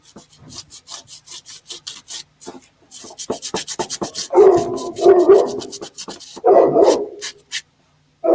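A dog makes restless noises, fussing to be put to bed, in a woodturning workshop while a root ball bowl is worked. Repeated rubbing and scraping strokes run throughout, with louder bursts of dog noise near the end.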